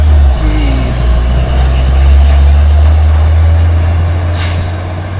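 A loaded Hino truck engine drones steadily and loudly at close range in drizzly weather on a slippery uphill road, with a brief hiss near the end and no talk.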